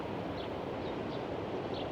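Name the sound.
sea waves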